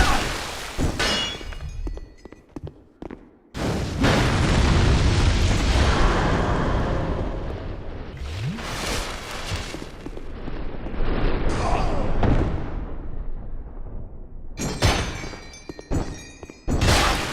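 Booming explosions from a Dark Pillar attack in a video game, heavy thuds and rumbling blasts layered over a long, dense roar, with brief quieter gaps between bursts and some speech mixed in.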